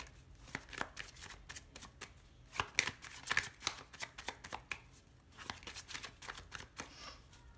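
A deck of tarot cards is cut and handled close by, giving a quiet run of soft, irregular papery flicks and taps.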